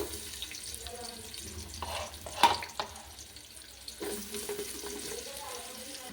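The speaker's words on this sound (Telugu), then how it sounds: "ఇప్పుడు ఆనియన్స్ అయితే వేసుకుందాము ఇప్పుడు ఇందులోకి ఆనియన్స్ వేసేసుకోవాలి" Chopped onions and green chilli go into a hot pan on an electric stove and sizzle steadily as they fry, with a brief louder clatter as they drop in.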